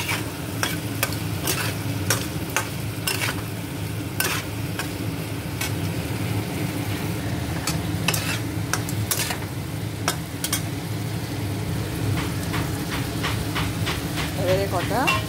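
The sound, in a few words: ginger and tomato frying and being stirred in a pan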